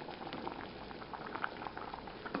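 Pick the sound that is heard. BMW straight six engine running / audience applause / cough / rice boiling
rice boiling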